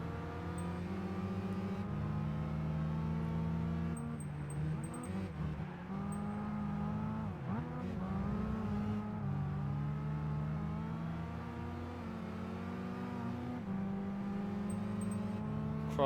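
Mitsubishi Lancer and other race cars in Gran Turismo 5 hold a steady loud engine drone, rising and dipping as gears shift, with a brief dip and surge midway, continuous throughout.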